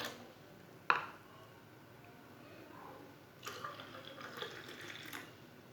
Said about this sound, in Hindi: गिलासों में भर लेंगे।